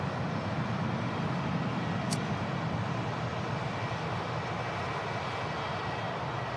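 Singapore Airlines Airbus A350 departing Manchester Airport, a steady broadband engine roar that holds at a constant level throughout, with a brief sharp click near the start.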